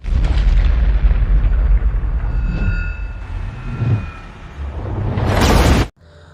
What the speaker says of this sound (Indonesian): Boom, meletus.